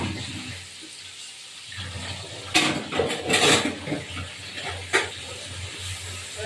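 Tilapia fish curry with spices stirred in a hot pan, a loud sizzle and hiss rising in bursts as the spoon scrapes and turns the food, close, no voices.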